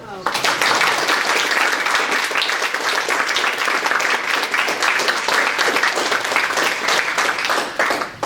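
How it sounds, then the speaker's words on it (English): An audience applauds a guest speaker steadily, dense clapping continuing without pause from start to finish. "Another round of applause for"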